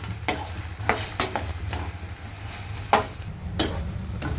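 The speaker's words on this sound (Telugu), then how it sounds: "ఇప్పుడు ఫ్లేమ్ మీడియం ఫ్లేమ్లో మార్చుకొని ఇవన్నీ కలుపుకోవాలి అడుగు అంటకుండా కలుపుకోవాలి" Jujube fruits cooked with jaggery are stirred in a pan over a medium flame, with soft bubbling and a series of spoon scrapes and knocks against the pan, close by and without speech.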